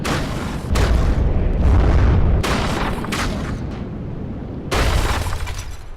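Explosions and an EMP pulse in the video game From the Depths, a loud, continuous barrage of booming blasts and crackling impacts with several heavy onsets, no voices over it.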